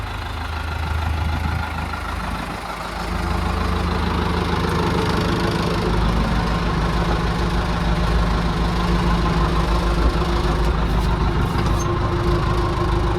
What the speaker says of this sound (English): I kind of actually like the sound of those 3200 series cat engines